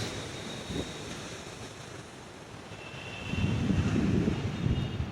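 Water rushes steadily at Durgapur Barrage, a broad continuous roar from some distance with wind buffeting the microphone and a swell in loudness toward the end.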